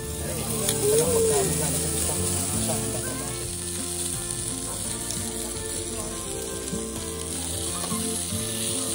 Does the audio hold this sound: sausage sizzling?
yes